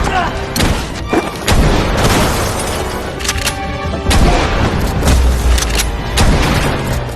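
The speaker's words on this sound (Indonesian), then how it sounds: "Kim dan Dong Hyuk melepaskan beberapa tembakan yang menyebabkan semua pekerja tewas seketika" Several loud gunshots fired in an action film scene where police officers shoot down workers, booming blasts in quick bursts over a dense, busy soundtrack.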